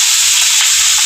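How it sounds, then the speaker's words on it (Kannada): Chickpeas dropped into hot tempering oil, a loud, dense sizzle and crackle filling the whole second-long burst, close and without voices. "ಇವಾಗ ಕಡಲೆ ಉಚ್ಚಿ ಒಗ್ಗರಣೆ ಮಾಡ್ಕೊಳತ್ತೀನಿ ನೋಡ್ರಿ"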